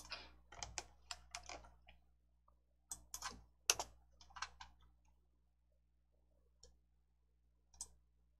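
Keys pressed on a computer keyboard during a word-processing task, quick clusters of light clicks followed by a few isolated taps, faint and close in an otherwise quiet room.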